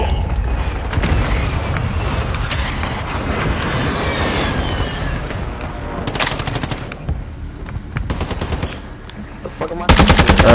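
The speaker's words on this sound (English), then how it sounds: "Mortar." Video game battle with heavy, sustained machine-gun bursts and mortar blasts that stay loud throughout, a sharp crack near the end, and voices calling out briefly underneath.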